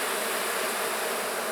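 A dense, loud buzzing of many agitated honey bees swarms close by during a hive inspection, constant and agitated, with no voices.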